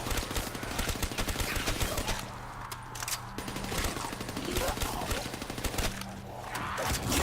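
Video game gunfire from Call of Duty zombies on the Shi No Numa map, rapid automatic shots in dense continuous bursts with brief gaps, loud throughout.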